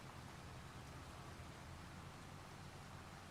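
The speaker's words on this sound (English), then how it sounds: "Just doing some plowing in the rain." Rain in Farming Simulator 25 while plowing, a steady soft hiss of falling drops, faint and even throughout with no voices.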